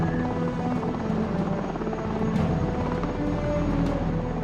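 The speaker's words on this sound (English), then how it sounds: "The helicopter heads out to scan the minefield." Military helicopter lifting off from a warship's deck for a minefield scan, a loud continuous rotor and turbine roar close by with steady low thumping, no talk.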